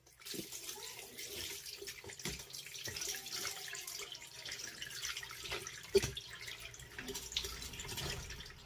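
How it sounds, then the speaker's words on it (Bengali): Water splashes and runs steadily over catfish held in a basket, a continuous wet rushing with occasional sharper drips and knocks, close and fairly quiet. "এবার মাছটিকে আমি জল দিয়ে খুব ভালো করে ধুয়ে নেবো"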